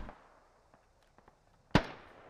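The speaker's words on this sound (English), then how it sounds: "Another frag out" A frag grenade detonates in a military shooter game: a single sharp, loud blast with a short decaying tail after a couple of faint footstep-like taps.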